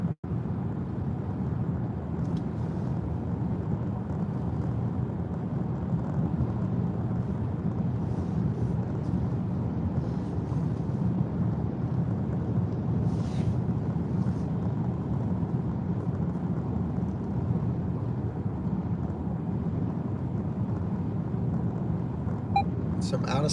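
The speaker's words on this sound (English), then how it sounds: "Here's where I can start to feel and hear the wind." Steady wind and road rumble inside a Nissan Ariya Platinum+ e-4orce driving on a smooth highway, a continuous even roar with no talk.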